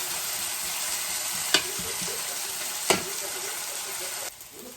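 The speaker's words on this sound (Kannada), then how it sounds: "ಜಸ್ಟ್ 2 ಮಿನಿಟ್ಸ್ ಫ್ರೈ ಮಾಡ್ತೀನಿ ಫ್ರೆಂಡ್ಸ್" Chopped onions frying in a pan for a breakfast dish, with a steady close hiss and sizzle broken by two sharp clinks of a utensil before the sizzle drops lower near the end.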